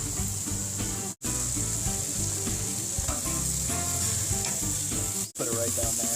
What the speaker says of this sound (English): we're just searing it, which is why I have it so high